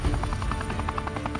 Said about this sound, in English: the rescue helicopter departs instantly for the trauma center